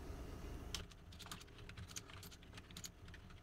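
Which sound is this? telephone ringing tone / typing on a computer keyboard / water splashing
typing on a computer keyboard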